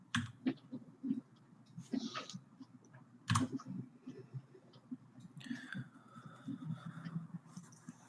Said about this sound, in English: Your keyboard, or it sounds like chewing almost in the background.